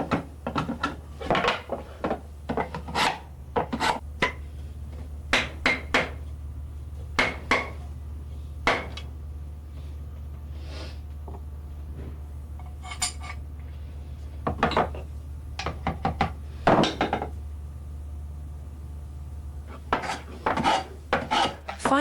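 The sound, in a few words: wooden hand plane being planed and chamfered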